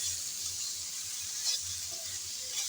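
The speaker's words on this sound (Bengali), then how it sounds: "আবারও এসে নেড়ে চেড়ে মিশিয়ে নিচ্ছি" Pointed gourd cooks in a pan with a steady, soft sizzle and frying hiss. Faint scraping comes from stirring and mixing at close range, and no voices are heard.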